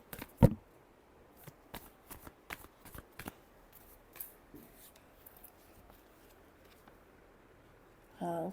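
Tarot cards are shuffled by hand in a quiet room, producing a string of crisp riffling snaps and soft slides at uneven intervals, with a longer riffle at the end.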